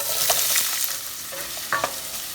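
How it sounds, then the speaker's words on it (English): Onion sautéing in olive oil, a steady close sizzle with a few soft scrapes of a stirring utensil against the pan, no talking. "Let's saute the onion."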